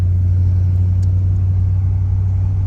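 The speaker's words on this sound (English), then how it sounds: "I love driving this car." An old Ford Thunderbird being driven, heard as a steady, loud, low engine drone and road rumble from inside the car, unchanging and with no talking.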